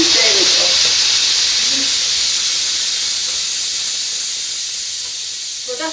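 Loud, steady hiss of steam venting from a pressure cooker's release valve in a kitchen, a continuous broadband rush that tapers off slightly toward the end.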